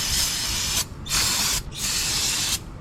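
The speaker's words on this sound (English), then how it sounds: "I like taking the little brake cleaner," Brake cleaner sprayed from an aerosol can during maintenance on a Toyota FJ Cruiser, 4Runner or Tacoma, heard as three loud, close hissing bursts of about a second each with short gaps between them.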